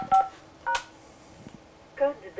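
Telephone keypad DTMF tones as a password is keyed in: three short beeps spaced unevenly, with soft background speech-like murmur between presses.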